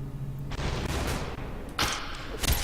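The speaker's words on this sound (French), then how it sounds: "Je tire 3 balles à côté." Gunfire from the video game SUPERHOT, a few sharp shots bursting out in quick succession and cutting through a steady game soundtrack.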